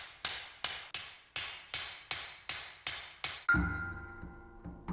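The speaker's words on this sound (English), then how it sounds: "Next, the steel is lengthened with one small hammer." A small hammer strikes steel being lengthened for a katana blade, nine sharp, evenly spaced ringing blows followed by a heavier, sustained metallic clang with a lingering ring, close and alone.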